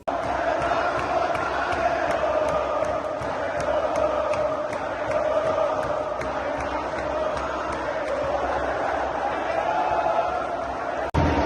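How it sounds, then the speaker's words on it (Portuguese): Vasco football fans fill a stadium with a steady, loud crowd roar at half-time, a sustained wash of voices and clapping with no clear breaks. "torcida do Vasco aplaudindo"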